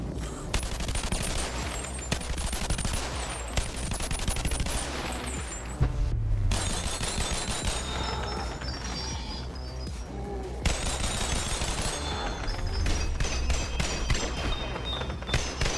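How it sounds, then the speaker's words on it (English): Rapid, continuous Glock gunfire from 500-round magazines in BONELAB, a dense unbroken fusillade of sharp cap-gun-like shots that runs almost the whole time, with one short pause and a low thump partway through. "Next up is the Glock Transitional with 500 round mags"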